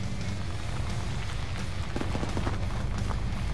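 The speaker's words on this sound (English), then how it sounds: "we're taking marksman fire" Gunfire from marksman rifles in the Arma 3 military game, a dense crackle of distant shots and booms under a steady battle din.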